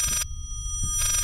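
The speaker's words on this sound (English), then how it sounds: "That's a phone." An old telephone rings in the horror video game Layers of Fear, a loud, bright bell burst that stops briefly and starts again, heard alone.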